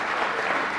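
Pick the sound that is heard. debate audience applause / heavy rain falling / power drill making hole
debate audience applause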